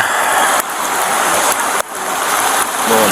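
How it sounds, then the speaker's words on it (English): A dense, steady hiss of rainfall fills the space, loud and close, with no voices. "here comes the rain"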